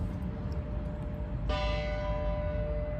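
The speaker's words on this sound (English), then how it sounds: "Oh, there goes the bells for the clock." A town clock bell in the square of Prescott, Arizona strikes once with a sharp ringing onset, its tone sustaining and slowly fading over outdoor ambience with no talk.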